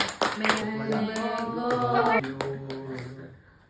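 Hand claps punctuate a family birthday celebration, a string of crisp, close claps mixed with voices and tonal sound that fade out toward the end.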